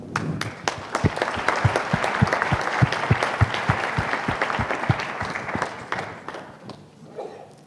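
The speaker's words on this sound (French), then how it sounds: "je vous demande de l'applaudir" An awards-ceremony audience applauds Maud Garnier, producing loud, close crowd clapping with sharp individual claps standing out, sustained for several seconds before thinning and tapering off at the end.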